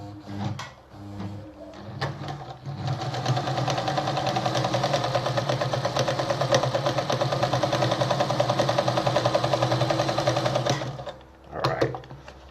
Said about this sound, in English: once you move this lever here, you're sewing the zigzag.